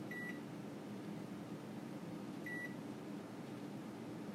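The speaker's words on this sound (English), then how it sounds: "Okay, let's do set the timer this time" A kitchen timer beeps twice while a pork roast cooks, the short tones spaced about two seconds apart over a steady hum of kitchen appliance or air conditioning noise.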